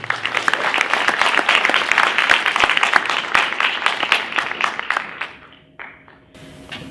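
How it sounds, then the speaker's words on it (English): A crowd at a university lecture gives loud, warm applause for the USC provost, many hands clapping densely for about five seconds before it fades quickly into quiet room tone. "Let's give a warm round of applause for USC Provost Michael Quick."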